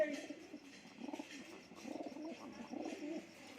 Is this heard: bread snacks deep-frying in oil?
no